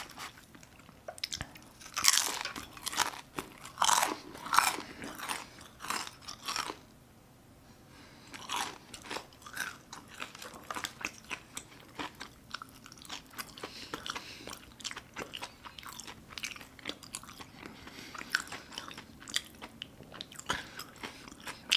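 Chinese food eaten up close for a mukbang, some pieces dipped in leftover sauce: loud crunchy bites and wet chewing come in irregular bursts, with a short quiet pause before the chewing resumes.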